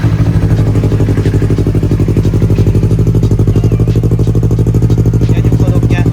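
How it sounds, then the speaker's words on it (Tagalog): A Yamaha R3 motorcycle with an aftermarket exhaust idles steadily up close, its rapid, even engine pulses loud and continuous throughout. "So, susubukan natin yung tambucho."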